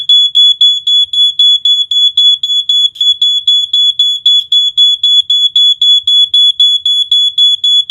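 A First Alert SA88 smoke alarm shrills in loud, rapid repeated beeps, a piercing high tone pulsing evenly and close by without a break.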